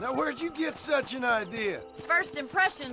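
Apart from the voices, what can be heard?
No everyday noises stand out.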